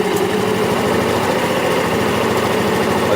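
A small engine runs loud and close, its continuous droning hum wavering slightly in pitch as the RPM climbs and drops.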